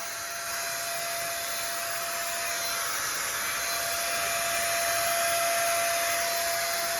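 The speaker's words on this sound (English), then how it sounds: "It's a chocolate pink sprayer!" Handheld paint sprayer applying a chocolate velvet-effect finish, a loud, steady high-pitched whirring hiss with a fixed tonal whine, growing slightly louder over its run with no talk.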